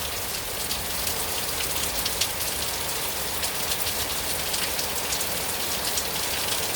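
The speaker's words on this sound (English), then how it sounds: "That's a lot of rain." Heavy rain pouring during a lightning storm in Salam, with gutters overflowing: a dense, continuous hiss of rain pelting surfaces, loud and unbroken throughout, with no voices.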